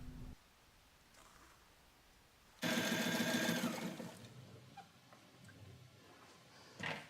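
An UltraFeed sewing machine stitches binding on its accessory table in one loud, fast, steady run of about a second and a half, between quieter handling noises and a brief mechanical sound at the end.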